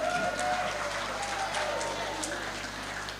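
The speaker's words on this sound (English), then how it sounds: "How about a round of applause for our ladies?" Audience applause at a seminar, a steady patter of clapping that slowly eases off, with voices heard over it.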